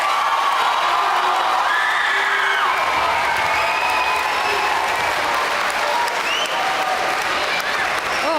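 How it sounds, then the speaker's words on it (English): A concert audience at a school music competition gala applauds loudly and steadily, with cheers and whoops rising through the crowd and sustained clapping filling the hall throughout. "Give yourselves a massive round of applause."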